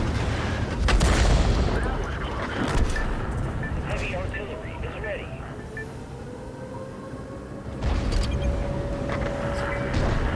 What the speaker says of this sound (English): there's my artillery strike